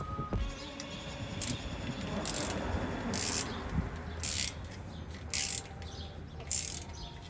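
A ratchet tightens the fill plug on the rear differential cover of a 2019 Ford Raptor, giving several short bursts of quick metallic clicking with pauses between strokes, close up and fairly clear.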